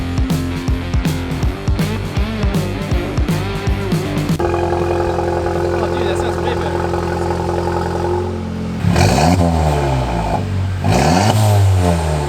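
A car with an open downpipe exhaust revving repeatedly, loud and close, with sharp rhythmic throttle blips, then a sustained rising rev and several more deep, raspy surges toward the end.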